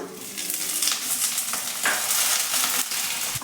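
Capsicum and chopped tomato fry in a kadai for kadai paneer, a steady close sizzle with bursts of stirring and scraping running through the whole stretch.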